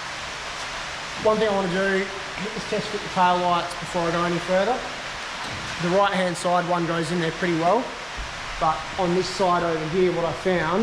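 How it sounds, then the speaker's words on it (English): Rain falls outside a workshop during work on an HK Holden Premier, a steady broadband hiss running continuously beneath someone talking nearby. "excuse the rain, it might be a bit noisy"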